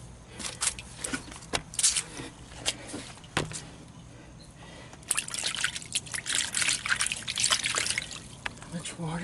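Water trickles and drips inside a flood-soaked 2004 Toyota Prius in Houston, Texas, with scattered close splashes and clicks that grow busier and denser in the second half.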